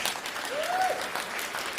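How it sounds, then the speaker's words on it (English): An evening audience at an event gives itself a round of applause, a steady wash of many hands clapping, with a faint whistle or voice rising briefly through it. "I also want for you to give yourselves a round of applause."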